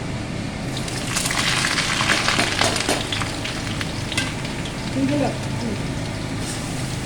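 Thin potato slices fry in hot oil with chilies in a home kitchen, giving a steady crackling sizzle with occasional stirring scrapes, close by, while two people talk over it.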